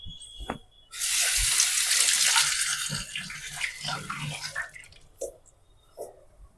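Tap water gushes steadily over green chillies being washed by hand, loud and close, then tapers into a few drips and splashes once the flow stops, with no talking.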